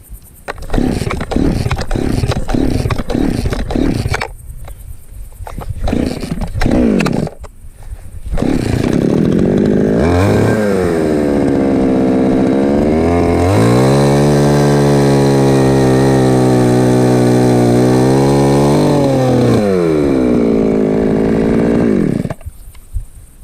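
A chainsaw runs loud and close outdoors while cutting logs for building, sputtering in short bursts at first, then revving into a long sustained high-pitched whine before cutting back.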